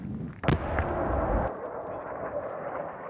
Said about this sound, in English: we can hear the rebels are firing mortars up into the air